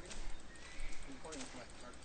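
Horse noises from the video game Diablo 2, with a short whinny and hoof clatter set low in the mix beneath constant game sounds and a voice speaking over it.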